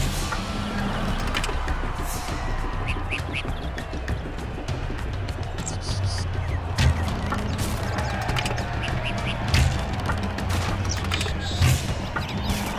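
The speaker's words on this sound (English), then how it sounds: "Po can use the ballista to shoot." Ballista shots in a Kung Fu Panda video game, heard as repeated sharp launches and impacts amid a dense, busy game mix of rumbling battle noise and effects, loud and continuous throughout.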